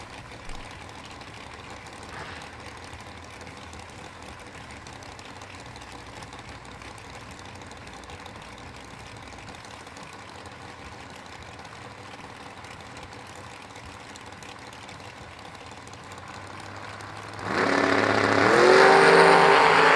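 Drag race cars at a Million Dollar Race meet, a roadster among them, idle with a low steady rumble for a long stretch, then one launches into a sudden loud, roaring burst near the end.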